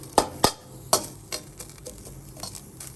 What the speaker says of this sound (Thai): ล้างแล้วผึ่งให้แห้งแล้วก็เอาคั่ว ไฟปานกลางนะคะ